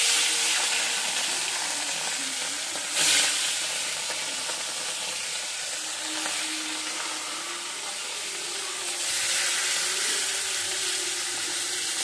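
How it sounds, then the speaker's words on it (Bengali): Pieces of sea rita fish frying in a pan, a loud, steady hissing sizzle with a brief sharp burst early on that swells again toward the end, no voices. "এই তো মাছ ভাজা হয়ে গেছে এখান দিয়ে।"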